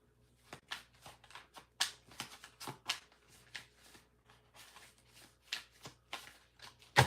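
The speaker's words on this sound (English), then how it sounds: "Cards feel weird. I haven't shuffled in a while." Tarot cards being shuffled in quick irregular bursts of riffling and flicking, close up and crisp against a quiet background.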